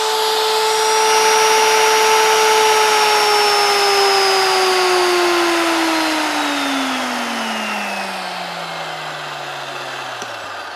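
A VEVOR 8850e magnetic drill motor with gear reduction in the head whines steadily at full speed, about 810 RPM, then its pitch slowly winds down as it coasts, a loud close tonal hum with jet-like whir and no talk.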